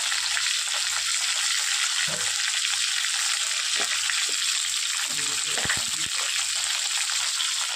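Pointed gourd frying in a pan with salt and turmeric, a steady loud sizzle throughout with occasional stirring knocks, no talking.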